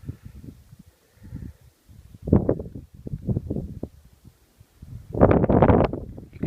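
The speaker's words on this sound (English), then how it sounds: "Hear that wind." Wind gusts buffeting the microphone on the Mt Whitney trail, uneven low rumbling bursts with two stronger blasts, close and fairly loud.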